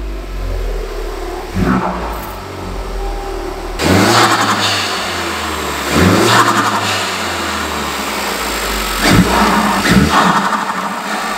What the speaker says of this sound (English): We just give it a little check and some revs.